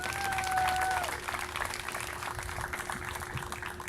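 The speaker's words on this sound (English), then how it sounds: "we'll also give another round of applause for the Heron School" Moderate crowd applause at an outdoor Robert F. Kennedy remembrance ceremony in an Indianapolis park, steady and fairly distant, with a brief tonal whistle at the start and a faint steady hum.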